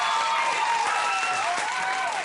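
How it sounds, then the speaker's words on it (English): Studio audience applause on a late-night talk show, dense sustained clapping from a large crowd that holds steady and starts to thin toward the end. "I just wanted to wait for the last clap."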